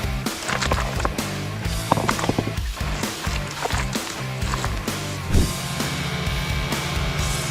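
A rock is shifted and rolled over on wet gravel at the water's edge, giving repeated close crunching knocks and grinding scrapes amid steady outdoor noise.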